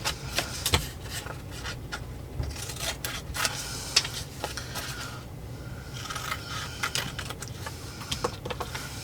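Scissors cut out a drawing on an index card, giving soft, quiet snips and paper rustles at an irregular pace close by.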